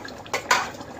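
A glass of water is tipped into a pot of mutton curry in a home kitchen, giving a short close splash and pour lasting under a second, with no talking.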